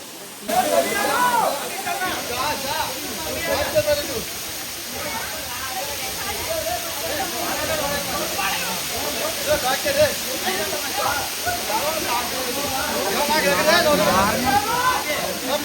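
A waterfall, Katika waterfalls in Araku near Vizag, roars in a constant broad rush throughout, with people talking over it.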